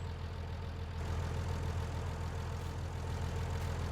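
A small tractor engine idles in the Farming Simulator 19 game, a steady low, rumbling drone that holds an even level throughout, with no talking over it.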